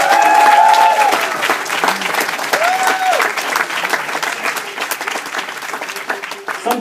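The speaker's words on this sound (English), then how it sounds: "some cheer for Shailender" Clapping and cheering from an audience at a theatre event, with a brief tone rising over the crowd early on and continuous applause that slowly thins.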